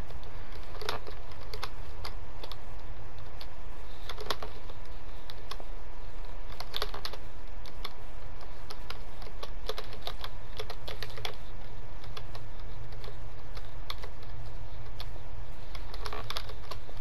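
Fast, continuous clicking of a basic Mac desk keyboard during in-game building, with dense keystrokes and occasional louder bursts over a steady low hum.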